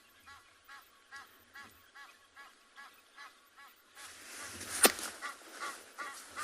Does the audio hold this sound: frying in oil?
no